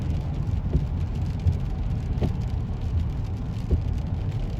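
Steady road and rain noise from inside a vehicle driving on the I-40 highway in the rain, past a section under repair, with a continuous low rumble and a few faint thumps.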